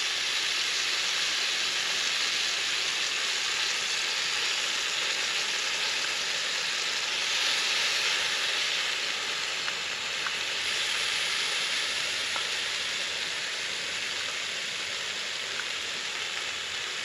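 Olive oil sizzles and crackles steadily in a cast-iron skillet over an outdoor campfire, a dense continuous hiss that stays close and even with no speech.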